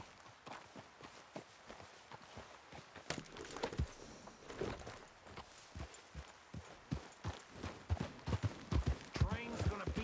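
Horse hooves clip-clop at a steady walking pace while riding in Red Dead Redemption 2, the rhythmic hoofbeats close and moderately loud with faint tack jingling and some game voices talking alongside.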